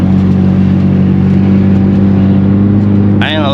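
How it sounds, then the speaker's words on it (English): A loud, close BMW engine burbles and revs on a downshift, a constant low rumble throughout that ends with a short rising whine near the end. "just a natural burple when you downshift in this car"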